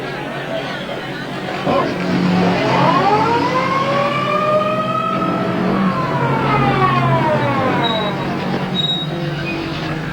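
An ambulance siren at a race track wails up and down in long rising and falling sweeps, loud and fairly close, over engine rumble, with voices talking beneath it.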